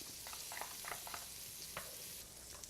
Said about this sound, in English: We're going to melt a pat of butter. We've got a little touch of finely minced garlic.